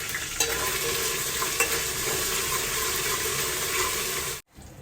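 Ginger garlic paste fries in a pan with a loud, steady sizzle and light stirring, close and continuous before cutting off abruptly near the end.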